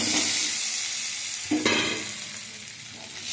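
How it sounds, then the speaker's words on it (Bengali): Fried potatoes tipped into hot spiced oil and sautéed, giving a steady soft sizzle with stirring scrapes and a brief louder clatter midway, close and alone without talk. "এবার আমি এতে আলু ভেজে রাখা আলুটা দিয়ে দেবো"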